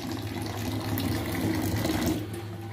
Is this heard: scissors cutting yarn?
no